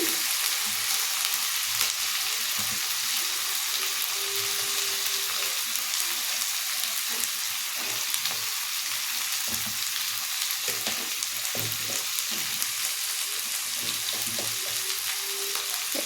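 Food fries steadily in a pan while being stirred, a continuous loud sizzle with intermittent scraping and clinking of the utensil throughout.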